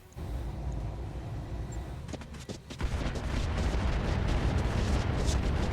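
Autocannon fire in the BattleTech mod RogueTech, a brief quiet lead-in giving way to a few sharp reports around the middle, then a sustained loud, rumbling barrage of impacts that holds to the end.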